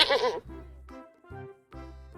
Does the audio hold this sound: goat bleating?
yes